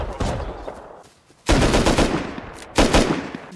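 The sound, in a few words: pump action shotgun gunfire in video game Rust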